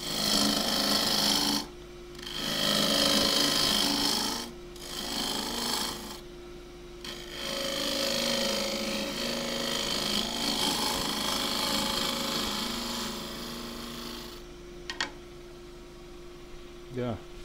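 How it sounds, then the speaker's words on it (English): A wood lathe spins while a half-inch spindle gouge shapes the top of a thin wooden pot, giving rough scraping and cutting bursts with short pauses over a steady motor hum. "Now shape the rest of the top. Half inch spindle gouge again."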